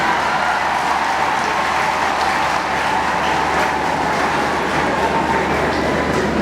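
A large crowd at a Tanzanian church and government gathering honouring Cardinal Pengo keeps up dense, steady applause, a constant wash of clapping with faint voices mixed in.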